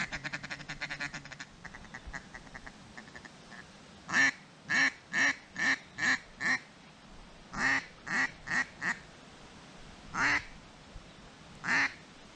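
Mallard ducks quack in loud, close bursts, about a dozen calls in quick runs with short gaps, over a faint outdoor background with no talk.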